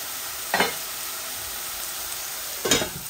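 Onions fry quietly in a pot for a Bengali chicken and fish curry, a soft steady sizzle broken by two short bursts of scraping as a spoon stirs them.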